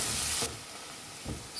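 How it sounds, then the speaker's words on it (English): Onions with a pinch of salt frying in a pan give a steady broadband sizzle, loud at first, then quieter with a brief stir near the end. "cook the onions till they turn light brown in color"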